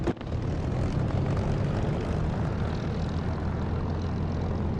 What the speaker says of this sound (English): So I'll throttle up and give it about 1300 RPM.